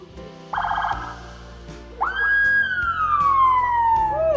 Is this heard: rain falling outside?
no